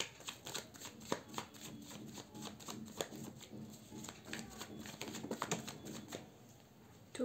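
Tarot cards are shuffled by hand in quick, irregular bursts of crisp riffling and tapping, close and fairly quiet, with short pauses between flurries and no speech.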